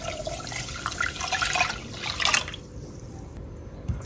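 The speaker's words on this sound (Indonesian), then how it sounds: "Dan setelah tercampur seperti ini, tambahkan 700 ml air." Water poured into a sugar pudding mixture during home cooking, a close, steady splashing trickle lasting about two and a half seconds, then fading to quiet room tone.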